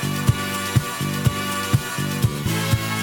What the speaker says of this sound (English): So this is Daft Punk's One More Time.